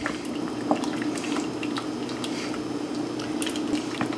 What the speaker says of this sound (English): This is just going to simmer now.